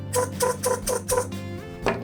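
A SodaStream conversion kit check valve releases gas in a quick series of five sputtering, chirping pulses, then a final short burst, close and fairly loud over a steady hum.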